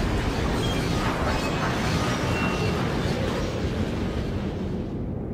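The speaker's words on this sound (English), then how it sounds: "Crash! Bang! Wallop went Frieda as she hit the snow." A cartoon locomotive crashes into snow with a dense, roaring burst of noise that holds steady and loud for several seconds, heavy and rumbling, with no talk over it.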